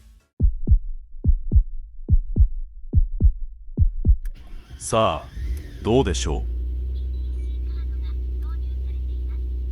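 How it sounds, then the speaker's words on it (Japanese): Alfa Romeo Busso V6 engine cranks with a rapid series of starter pulses, then catches and settles into a steady, low, even idle. A voice speaks briefly as it fires up. "あとはエンジンを始動して動作を確認します"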